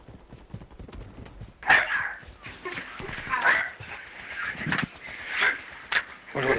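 Dog barking in the video game Warzone, several sharp barks and whimpers spaced irregularly over a few seconds, mixed with game noise and player chatter in the background.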